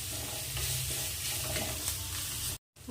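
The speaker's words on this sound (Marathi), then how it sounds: "आता आपण या ठेच्याला फ्राय करू आणि गॅस स्लोच ठेवायचा आहे" Cluster bean thecha fries in oil over a low flame with a steady close sizzle and stirring scrapes. A brief gap of silence comes near the end.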